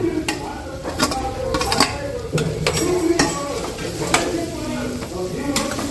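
Grated raw mango stirred into a hot pan for raw mango chitranna, a spoon scraping and clacking against the metal over a soft sizzle, steady and close with a few sharp knocks.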